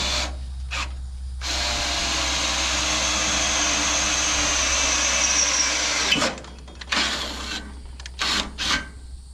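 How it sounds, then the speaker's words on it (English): A power drill with a small sharp bit bores out a hole, running in a steady loud whine for about six seconds, then stopping and restarting in a few short bursts, close by with no talking. "what I'm going to do is drill this out first. I got a smaller bit here that's a little bit sharper."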